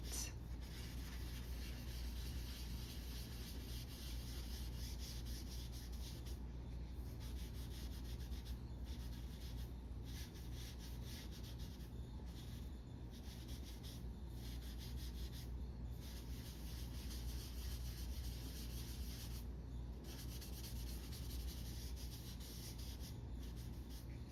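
Pencil blending on paper while shading a drawing of an eye, a steady soft rubbing and scratching that runs continuously and quietly, close up with no talking.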